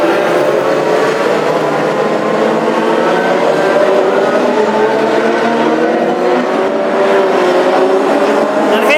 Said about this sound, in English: The cars come through.